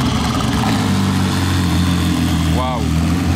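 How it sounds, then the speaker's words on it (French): A road-legal race car engine runs steadily and loudly throughout, a deep continuous rumble near at hand, with a brief rising whistle-like sweep late on. "C'est vraiment une voiture de course pour la route. Vous entendez le bruit?"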